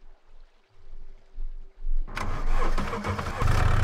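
A vehicle engine in the survival game SCUM cranks and catches, then settles into a loud, steady rumble; quieter clicks and shuffling come before it starts.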